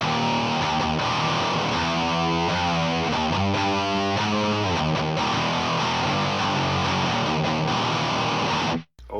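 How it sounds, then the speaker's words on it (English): A KMA Dead Stack fuzz-distortion hybrid pedal gives an electric guitar a heavily fuzzed, distorted tone. It plays thick sustained chords, loud and saturated, then cuts off abruptly at the end. "Here's the KMA Dead Stack, which is a fuzz distortion hybrid."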